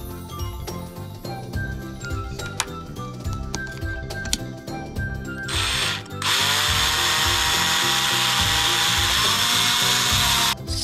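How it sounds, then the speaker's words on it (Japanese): A power drill bores holes while a camper bed is built into a kei camping van, starting with clinks and tool handling, then a loud, steady high whine as the drill runs for several seconds. "これで穴開けていきます。"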